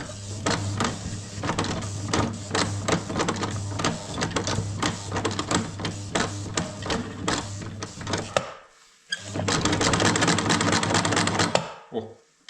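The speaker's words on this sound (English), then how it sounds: "Dude, I'm sewing. Look at that." A home sewing machine stitching in a cabin being furnished, with a fast rhythmic mechanical clatter in two runs separated by a brief pause, close and loud, with a person talking over parts of it.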